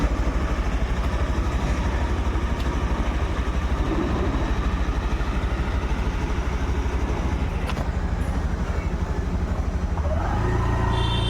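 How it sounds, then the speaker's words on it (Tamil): A Honda Activa scooter engine runs steadily at a smooth, even idle, close by, with a faint rise in revs near the end. "இன்ஜின் நாய்ஸ் சரியான ஸ்மூத்து சூப்பராக இருக்குது"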